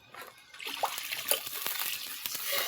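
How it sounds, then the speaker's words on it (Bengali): Water poured into besan batter for kochu pata fritters, a soft splashing trickle with some clinks, steady and close, rising slightly in loudness toward the end. "এবার আমি জল দিয়ে দেবো, একটু বেশি করেই জলটা দেবো"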